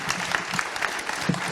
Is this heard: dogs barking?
no